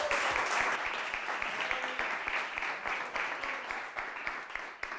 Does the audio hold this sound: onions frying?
no